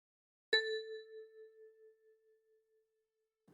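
A single note plucked with the left thumb on a ten-key kalimba rings out cleanly and decays slowly over about three seconds, alone and close.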